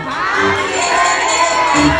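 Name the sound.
children shouting happy birthday at a party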